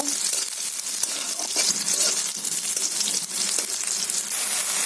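Garlic and onion sizzle steadily in a hot pan for a spinach stir-fry, a dense continuous frying hiss with small crackles throughout and no speech.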